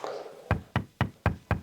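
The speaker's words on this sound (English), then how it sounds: "Knock on wood" Five sharp knocks on wood in an even, quick rhythm, close and distinct, following a brief moment of soft background noise.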